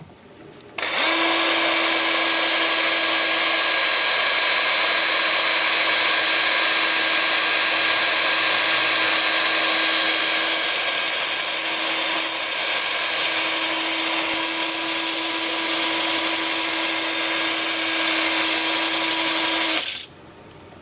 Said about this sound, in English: The lathe will be spinning at about 350 RPM.